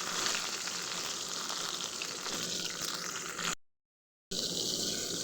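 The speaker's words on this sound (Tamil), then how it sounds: "இப்போ வெங்காயமும் தக்காளியும் இந்த அளவுக்கு வதங்கினது" Onion and tomato sauté in a pan, a continuous close hiss and sizzle that cuts out briefly to silence before resuming.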